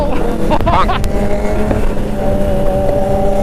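A loud, steady exhaust from a motorcycle with a loud aftermarket pipe roars up close, rumbling continuously without a break.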